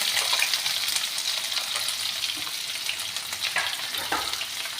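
Long-cut chopped onions frying in hot oil with cumin, cinnamon and black cardamom for aloo baingan sabzi, a steady close hissing sizzle with faint stirring, no talk.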